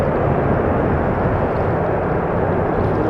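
A Boeing 777 airliner roars steadily at Amsterdam Schiphol Airport, a loud, continuous broadband jet rumble with no break or change across the span.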